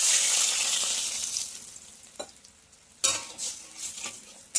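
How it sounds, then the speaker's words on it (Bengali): Water is poured into a mustard, turmeric and green chilli paste in a hot pan for a hilsa curry. A loud rushing hiss and sizzle fades over two seconds, followed by a few stirring scrapes and a renewed burst of sizzling. "এই জলটা এর মধ্যে ঢেলে দেব।"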